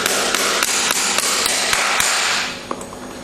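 Hammer driving a nail into a horseshoe on a horse's hind hoof, a rapid series of sharp metallic taps at close range, about a dozen in quick rhythm before slowing to a few lighter strikes.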